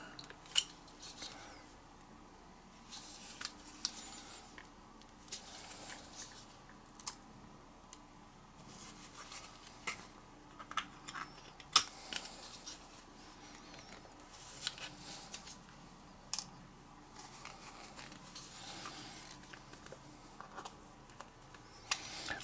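Quiet, scattered clicks, scrapes and small snaps come from a tool wedged into a glued 3D-printed plastic part to pry it apart, with sporadic sharp ticks over a low room background.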